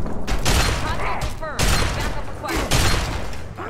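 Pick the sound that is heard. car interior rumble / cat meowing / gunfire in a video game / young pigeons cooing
gunfire in a video game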